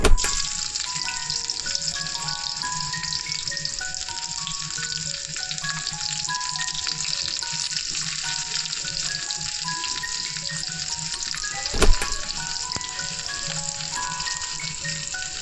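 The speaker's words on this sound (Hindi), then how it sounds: "इसके बाद मैं इसमें डालूँगी प्याज।" Chopped onions frying in a pan with cumin for Maggi noodles: a steady, close hiss and sizzle throughout under soft background music, with one brief clank near the end.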